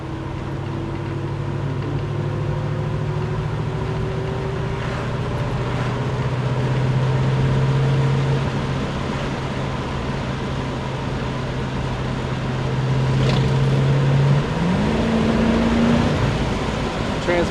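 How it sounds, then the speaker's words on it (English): A 1969 Ford Mustang Mach 1 with a 351 engine driving along, a steady engine drone and road rumble with the pitch shifting as the transmission kicks down near the end. "Transmission's kicking down like it's supposed to."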